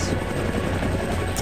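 Helicopter in the video game Indigo Prophecy, a loud, steady rotor drone with low thumping that holds throughout without a break, and no talk over it.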